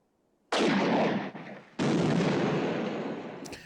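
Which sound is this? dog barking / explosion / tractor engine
explosion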